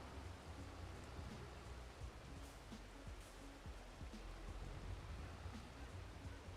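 Steady rain in Farming Simulator 22 during grass harvesting, a soft continuous hiss with faint patters, held low and even throughout with no voices.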